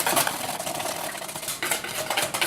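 Whisk stirring a healthy cookie batter made with cacao in a bowl, a steady scraping, clicking swirl close by that runs continuously for a few seconds, with no talking.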